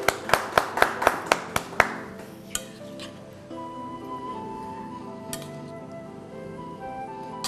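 A short burst of clapping, about seven sharp, evenly spaced claps, followed by quieter background sounds and faint music. The setting is a Tunisian TV show.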